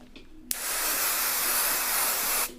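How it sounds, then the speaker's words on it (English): A steady hiss of hairspray aimed at braided hair, starting abruptly with a click and running continuously for about two seconds before cutting off; close and moderately loud, with no talking. "Give it some spray."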